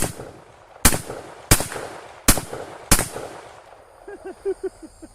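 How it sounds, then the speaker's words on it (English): Five sharp rifle shots with mixed 5.56 ammunition fired at steel targets outdoors, each a loud crack spaced about a second apart with a short decaying tail, followed by faint distant clanks. "I'm just going to shoot at the steel that I have out there."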